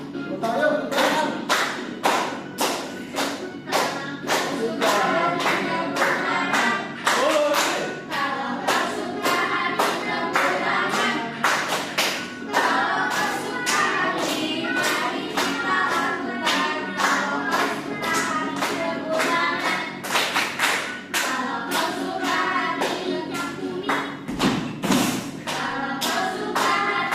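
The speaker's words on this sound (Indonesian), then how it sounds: "Tepuk tangan yuk, tepuk tangan." Children clap their hands along to a sung children's song, sharp, regular claps marking the beat over melodic singing voices for the whole stretch, with a brief pause near the end.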